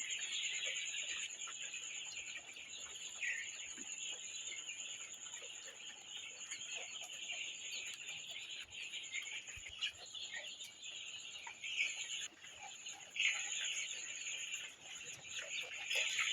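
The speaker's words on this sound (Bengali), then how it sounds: "এখানে আমার ছয় হাজার দুইশো ব্রাউনকক মুরগি আছে" Steady chatter of about 6,200 three-week-old brown broiler chickens in a shed, soft clucks and peeps over a constant high-pitched hum, with no talking.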